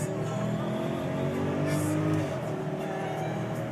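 A Mercedes-Benz GL450 SUV accelerates hard, its engine note rising in steady harmonic sweeps as it pulls, loud and continuous from inside the cabin with a faint road hiss above.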